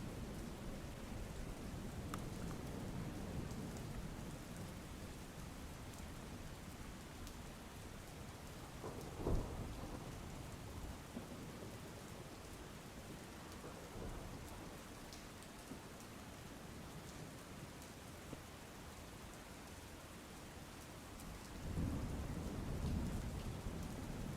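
Steady heavy rain hisses throughout, quiet and distant, with a sharp thunder crack partway through and another low rumble near the end, during a downpour of 2 inches in an hour and a half in Maliya Hatina, Junagadh, Gujarat.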